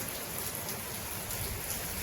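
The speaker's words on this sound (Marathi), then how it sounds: "तर चला पहिला पाऊस एन्जॉय करूयात." The first monsoon rain falls steadily, a dense and even hiss of raindrops on surfaces that stays constant and fairly close throughout.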